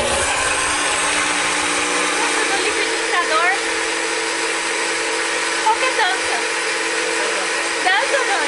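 An electric blender whirs steadily while mixing pudding in a home kitchen, a constant loud motor hum with faint voices and brief chirpy sounds over it.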